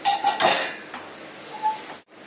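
Metal spoon scraping and clanking against a pan while potato fry is stirred, a few brisk clattering strokes followed by quieter scrapes, close and clear with no talking.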